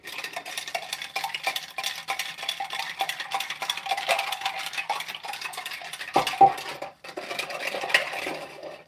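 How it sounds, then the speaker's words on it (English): A spoon stirring a bourbon and sweet vermouth cocktail, a continuous close rattle and clink of ice against glass with a brief louder knock near the end, no talking. "4 parts bourbon, 1 part sweet vermouth. Let's stir it up."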